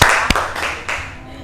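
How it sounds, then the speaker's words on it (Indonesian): Brief clapping for a presenter in a classroom group session, a few sharp claps from a small group fading quickly within a second and a half. "beri tepuk tangan untuk Mbak Fadlul"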